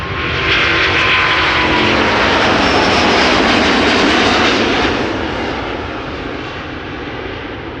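A Corendon jet airliner departing Schiphol Airport, flight 5997 bound for Bonaire, roars loud and broadband, swelling to a peak midway then slowly fading as it climbs away.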